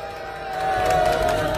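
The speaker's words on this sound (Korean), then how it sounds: "큰 박수로 환영해 주십시오" An audience at a Korean labor union rally for financial and securities workers breaks into applause and cheering to welcome a speaker, the crowd noise swelling partway through and staying loud.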